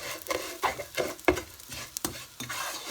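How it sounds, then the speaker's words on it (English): Boeber, a warm milky dessert mixture with cinnamon and cardamom pods, gets stirred in a pot, each sweep a close scraping swish over a faint simmering sizzle, repeated about every half second. "So just keep stirring this for 2 minutes and then add your milk."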